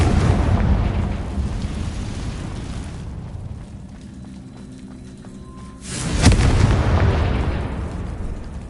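A Confringo spell explodes in the video game Hogwarts Legacy with a loud booming blast, followed by a long rumbling wash of debris that fades, then a second sharp burst and renewed rumble. No one speaks.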